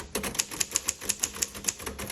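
Steady run of crisp typebar strikes on a 1951 Royal Quiet Deluxe manual typewriter, about a dozen close, fairly even clacks in quick rhythm with nothing else competing.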